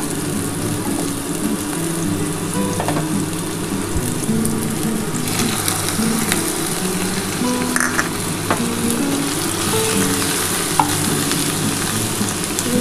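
Small shrimp hitting a pan of onion and pointed gourd for a spicy gourd curry, with a steady loud sizzle and frying crackle under occasional stirring throughout, no voices.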